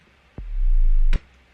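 A sub bass pitched down 12 semitones in an electronic dance track: one deep, steady low note, loud and alone, held just under a second with a clicky attack and cutoff.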